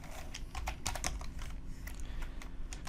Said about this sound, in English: Simply type Contact Form 7 in the search bar